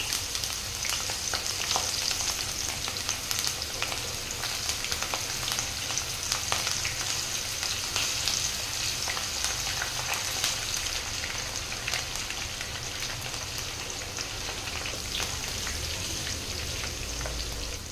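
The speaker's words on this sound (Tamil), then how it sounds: "இப்போ அந்த எண்ணெயோட சலசலப்பு எல்லாம் கொஞ்சம் குறைஞ்சிட்டு அப்படியே மேலே வந்திருக்கு பார்த்தீங்களா" Banana flower pieces deep-frying in hot oil for a crispy snack, a dense steady crackling sizzle like heavy rain, close and constant throughout.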